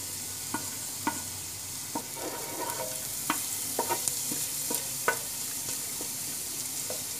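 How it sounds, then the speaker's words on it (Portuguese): Garlic frying and browning in a pan while making quiabada, a steady sizzle broken by sharp clicks and scrapes from a utensil stirring the pan, close and moderately loud, with no speech. "Deixa nosso alho dourar um pouco. Tá vendo, gente? O alho dourando."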